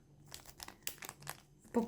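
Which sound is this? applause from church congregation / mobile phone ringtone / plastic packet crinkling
plastic packet crinkling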